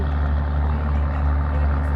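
A truck engine runs hard while blowing black smoke, giving a loud, steady, low rumbling drone with strong bass and no clear rise or fall.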